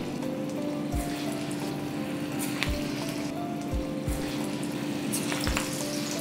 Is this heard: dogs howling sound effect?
no